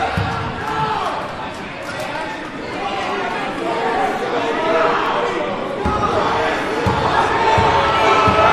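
Crowd noise at a men's college basketball game in a fieldhouse during a free throw, a loud steady roar of chatter and shouting that swells toward the end, with a few ball bounces and a commentator speaking over it.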